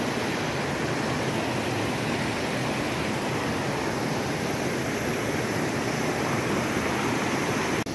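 A river rushes steadily past a riverbank in a continuous broadband roar of flowing water, close and constant with no voices, near an outdoor riverside spot in Darjeeling.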